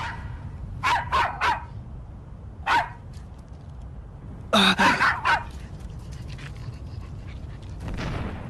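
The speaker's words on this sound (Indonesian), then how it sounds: "Suara gonggongan itu." A dog barks in two short bursts, first a quick run of three or four barks, then a single bark and another cluster, fairly near and loud over a steady low background rumble, with no talking.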